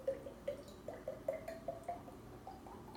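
Extra virgin olive oil is poured into vinegar for a vinaigrette, a faint, quiet run of small glugs and liquid drips in an irregular rhythm, nearby and alone.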